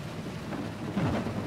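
Rain and thunder in the Assetto Corsa Competizione racing game during a wet GT3 session: a steady wash of rainfall with a low rumble of thunder swelling toward the end, continuous and fairly loud, no voices.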